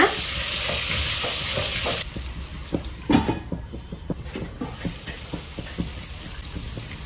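Capsicum and green chilies frying in a tempering, a steady loud sizzle that drops abruptly, then gives way to clattering stirring and scraping in the pan, close and continuous.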